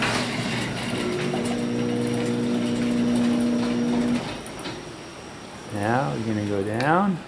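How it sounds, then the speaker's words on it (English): A LiftMaster 8500 jackshaft garage door opener motor hums steadily with a droning whine for several seconds as the door rises, then stops; speech follows at the end with rising, falling tones. "Door is going up."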